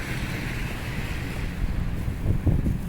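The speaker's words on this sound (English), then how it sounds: "I can feel the wind on the umbrella, but hopefully it works." Wind gusting against an umbrella during a heavy snow storm downtown, a constant close rushing buffet with low rumbling surges and no voices.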